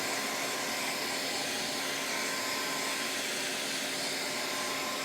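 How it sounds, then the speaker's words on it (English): A small handheld hair dryer blows steadily on sandcarving film over stone, a continuous loud broadband whoosh that holds without a break for the whole stretch, close by, with no talking over it. "I have like a little hair dryer here. You can kind of speed up that drying process."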